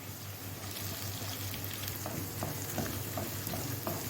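Onion sautéing in a pan, a dense, even sizzle throughout with a few faint stirring taps, close and steady with no one speaking.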